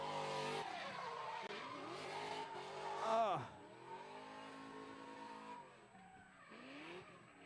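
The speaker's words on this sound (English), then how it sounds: "Christian Cotrone coming out here and putting a show with that Chevy Corvette, being very aggressive into that initiation, coming out here, clutch kicking it in" Chevy Corvette drifting at a Formula Drift ProAM round at Sebring Raceway, its tires squealing loudly as the engine revs and bogs, with a sharp swell of screech midway before the car settles into a sustained whine, a voice commenting over it.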